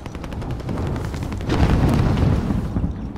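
Rapid, continuous gunfire in Call of Duty Warzone rattles in dense bursts, growing louder and heavier midway, with rumbling booms underneath.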